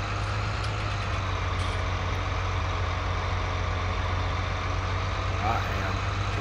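A tractor engine runs steadily and loudly close by with a deep continuous rumble as a gear is put in, constant throughout with no break.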